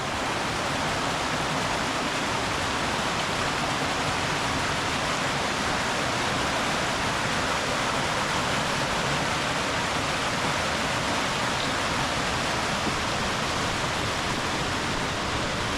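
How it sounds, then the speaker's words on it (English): Steady, loud roar of a waterfall on a creek along a wilderness canoe portage, broadband rushing water filling the whole clip without a break and no voices. "Here's the waterfall."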